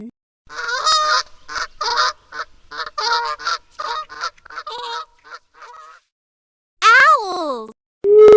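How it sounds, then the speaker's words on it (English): A swan gives a rapid run of honking, nasal calls at close range, followed by a couple of longer, louder honks after a brief pause. "Swan."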